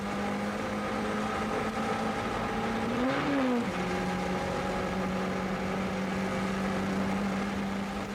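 An F2000 open-wheel race car at the Tremblant circuit drones steadily along the back straight, its engine tone holding level, then briefly rising and dipping once around a gear change before settling into a constant, slightly distant whine.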